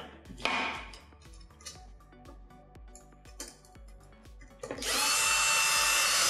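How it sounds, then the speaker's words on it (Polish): A cordless screwdriver gives several short whirring bursts while driving screws into the brew unit of a Saeco Moltio coffee machine, with rhythmic ticking and clicking between them, then a loud sustained whir near the end. "Ja to robię wkrętarką"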